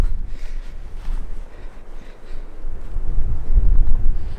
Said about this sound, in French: Il y a un sacré vent aujourd'hui.